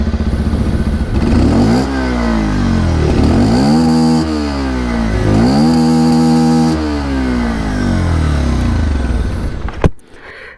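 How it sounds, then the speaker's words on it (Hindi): A 2023 Bajaj Pulsar 125 motorcycle with fuel injection runs close by, its exhaust note rising and falling through several loud revs before it drops back to idle. A sharp knock is heard near the end. "मैं आप लोग को इसकी जो एग्जॉस्ट साउंड है वो सुनाना चाहूँगा"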